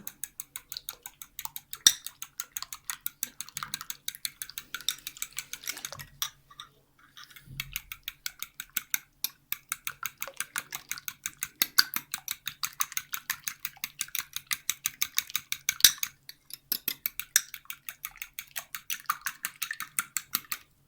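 A spoon whisks a tablespoon of yogurt with two tablespoons of milk in a bowl, making a fast, steady run of light clicking taps with a couple of brief pauses.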